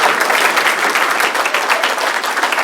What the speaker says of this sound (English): we should give a round of applause to the staff